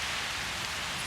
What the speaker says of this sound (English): Oh, rain. How about that?